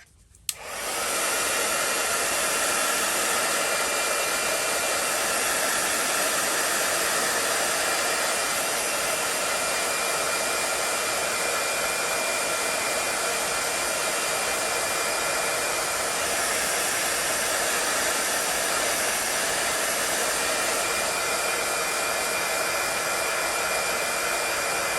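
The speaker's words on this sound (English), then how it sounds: "heating it with my gun here" A heat gun blasts steadily onto homemade sandy texture paste, starting abruptly and then holding a loud, constant airy whoosh with no pauses and no talking.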